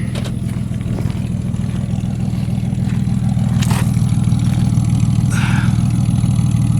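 A 1987 Jeep Cherokee 4.0 with an 18-inch Cherry Bomb muffler idles with a steady, deep exhaust rumble, continuous and close, with a few faint clanks over the top.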